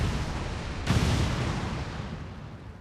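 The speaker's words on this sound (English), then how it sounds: "Now we get treated to a beautiful explosion" A loud explosion bursts out in a soldier video game, a sudden blast that rolls into a long, rumbling decay as it slowly fades away.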